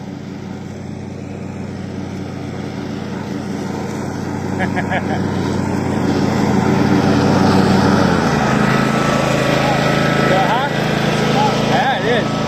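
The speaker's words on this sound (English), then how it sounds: "He's driving a lawnmower." A ride-on lawnmower driven by a boy across a farm field drones steadily with a buzzing engine, swelling a little louder midway, with people talking over it.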